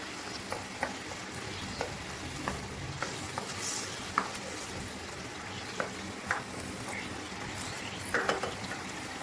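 Tomato paste and chicken sizzle steadily in a hot pan, with the spatula scraping and clicking against the metal at irregular intervals, close and moderately loud, no voices.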